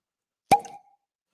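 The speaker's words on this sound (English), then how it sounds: "Nice little cork pop there for you." A single crisp cork pop sounds as the stopper is pulled from a bottle of Weller Pot Still bourbon, one short hollow plop up close in silence.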